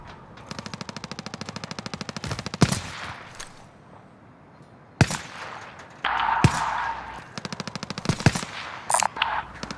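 Light machine gun fire in a Resurgence video game match: rapid, evenly spaced bursts of shots, loud and close, broken by short pauses and sharp single cracks, with no speech.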